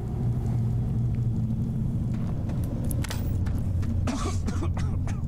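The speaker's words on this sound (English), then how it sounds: "Cough." A character in the video game Starfield coughs several times inside a cave, with short rough bursts over a steady low rumble of ambient game sound. No one speaks.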